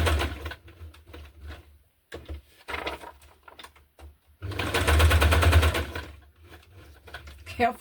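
Sewing machine running a straight stitch while threads are held in place, in bursts of rapid mechanical needle chatter, loudest in a long run near the end, with pauses between and soft speech nearby.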